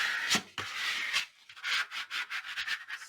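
Repeated rubbing strokes of a burnishing tool pressing a paper piece onto a 10 x 10 scrapbook album page, a close, dry scraping rasp in uneven bursts with brief pauses between strokes.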